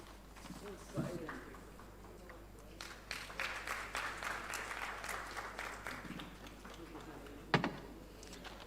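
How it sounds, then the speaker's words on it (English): Applause for panelists at a petrochemical-sector session of a business conclave, a faint, moderate round of clapping from the audience lasting several seconds, with a speaker's voice over it and a sharp knock near the end. "Huge round of applause for our eminent panelists today"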